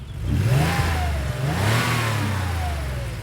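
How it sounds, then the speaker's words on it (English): A car engine revs up hard, its pitch climbing, dipping briefly, then climbing again in a loud, close, sustained roar. "started revving the engine"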